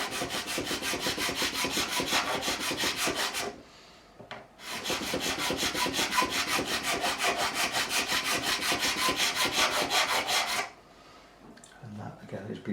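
A metal file rasps across the frets of an Epiphone Thunderbird bass during a setup, in steady rhythmic back-and-forth strokes close up, with two long runs of filing broken by a short pause.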